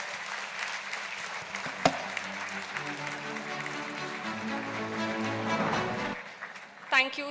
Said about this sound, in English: Bigger applause